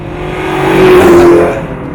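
A 2000 Ford Mustang GT with bolt-on upgrades accelerates hard, its V8 roar swelling loudly up to a peak mid-clip and then easing off, heard close with no talking.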